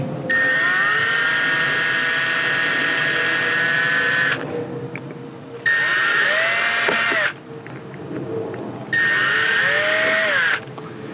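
A small high-pitched drill whirs in three bursts drilling a starter hole during a Mercedes-Benz C250 interior door handle repair, each several seconds long, with brief pauses between them, close and loud.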